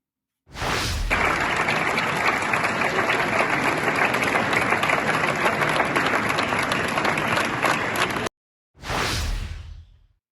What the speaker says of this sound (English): So isn't it lovely to see them all applauding themselves?